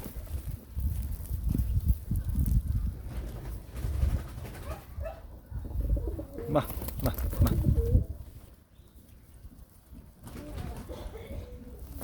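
Pigeons coo in a backyard loft where young birds have just hatched, giving soft repeated throaty calls at close range, mixed with people talking nearby and other faint animal noises.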